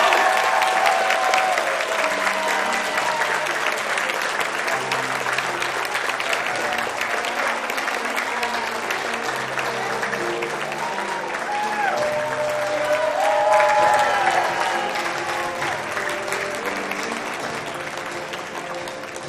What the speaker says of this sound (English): please join me with a thunderous round of applause